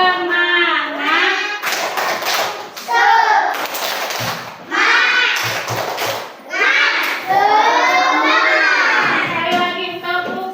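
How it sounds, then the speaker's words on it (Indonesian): Classroom children chanting together while doing the tepuk semangat spirit clap, loud rhythmic clusters of hand claps and thumps mixed with their shouted voices, close and energetic. "yuk kita tepuk semangat dulu semua"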